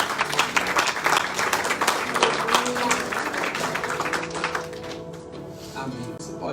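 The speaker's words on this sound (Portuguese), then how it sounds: "Você pode aplaudir Jesus." Church congregation applauding during a worship service, steady clapping from a crowd with voices speaking and calling out beneath, tapering slightly toward the end.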